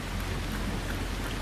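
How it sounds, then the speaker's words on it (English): Steady rain falls outdoors on a cold 44-degree day, a dense, even hiss of drops with no breaks and no voices, moderately quiet throughout. "It's 44 degrees and it's nice and rainy outside."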